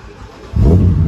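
A BMW engine catches and rises into a loud, low rumble partway through a short moment, close by.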